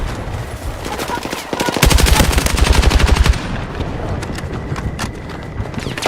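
Video game gunfire in a chaotic battle: rapid automatic bursts crackle loudly, peaking in a dense machine-gun rattle, with scattered shots continuing after.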